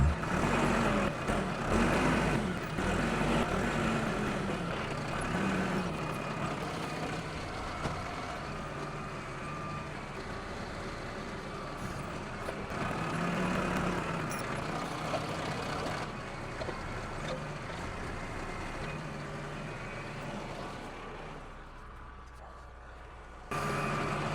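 A Yanmar skid steer fitted with a bucket carrying a new cutting edge runs outdoors, its diesel engine droning steadily at moderate distance for a long stretch with small shifts in load and no voices.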